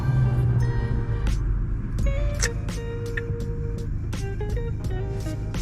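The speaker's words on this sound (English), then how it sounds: "you all are hearing the signal come on and off for some reason" The turn signal ticks inside a Tesla Model S Plaid driving through city streets, a series of sharp, fairly regular clicks heard over the low, steady cabin rumble.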